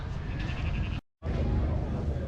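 Sheep of different breeds bleat inside a humid show tent at the Angus Show in Scotland, loud and close with overlapping calls and a brief cut in the middle.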